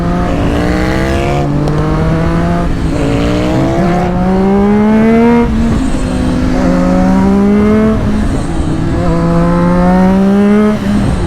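A motorcycle warming up its tires on a canyon road rides past loud and close, with repeated rising revs through the gears in a steady climbing pattern.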